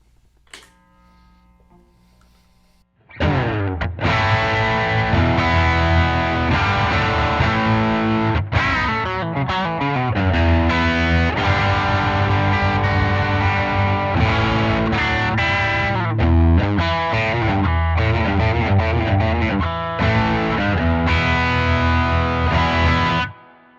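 Electric guitar through a Nobels-style overdrive pedal plays a loud, gritty rhythm part for about twenty seconds after a brief quiet lead-in, chords chugging and ringing.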